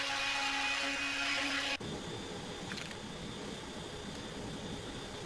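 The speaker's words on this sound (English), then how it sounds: "Now I'll do a little sanding on these edges to sand off the glue" A power sander works over the glued wooden edges of a flag box: a loud, steady high-pitched whine at first, then a quieter continuous grinding rasp after it shifts or eases off, with no speech.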